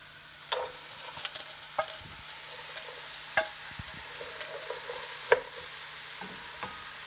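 Carrots tipped into softened leeks in a cooking pot, giving a soft sizzle with light, irregular stirring scrapes and taps spread across the whole stretch, close and fairly quiet, with no talking.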